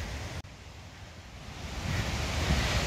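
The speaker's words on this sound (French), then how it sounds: "cette petite cascade si elle est mignonne" A small waterfall along a geocaching walk: a steady broadband rush of falling water that swells louder in the second half, after a brief dropout near the start, with no talking.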